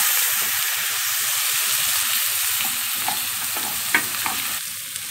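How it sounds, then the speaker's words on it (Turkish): Bulgur and vermicelli are toasted in butter and stirred, giving a loud, even hiss of sizzling with occasional scrapes and clicks of the spoon near the end. "bulgurumuzu, arpa şehriyemizi de, arpa şehriye diyorum, ağzımda alışkanlık olmuş ya, tel şehriyemizi beraber güzelce kavuruyoruz bir miktar daha"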